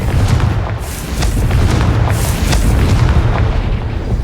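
A fiery Confringo spell blasts in the Hogwarts Legacy video game, a loud, deep booming rumble that swells in several heavy bursts across the whole stretch, with no talking.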